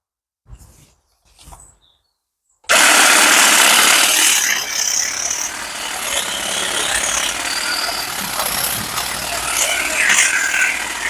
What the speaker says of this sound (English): I'm just going to lop off some of those thinner branches. I'm going to use the hedge trimmer for it.